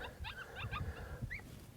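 A coyote pup distress call played from an electronic predator caller during a Nevada coyote hunt gives high, wavering yips and whines over steady outdoor background noise.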